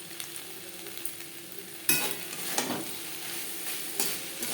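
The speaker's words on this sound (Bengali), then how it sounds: "কাঁকরোলের সাথে নারকেল বেশ ভালো করে মিক্স করে দেবো" Grated coconut being stirred into frying spiny gourd in a pan: a soft, constant sizzle broken by several sharp spatula scrapes and knocks against the pan.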